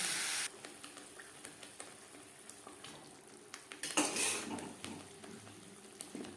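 Lightly fried potatoes are stirred into spices and oil in a pan, with a spoon scraping and tapping against the metal, a faint sizzle underneath, and a louder scraping burst midway.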